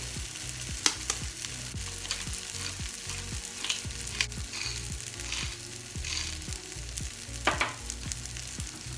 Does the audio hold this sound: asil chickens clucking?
no